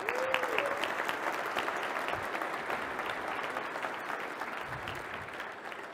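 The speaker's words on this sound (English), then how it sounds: "Give them a round of applause." A conference keynote audience breaks into sustained applause, a broad, even clatter of many hands that holds steady and slowly thins toward the end.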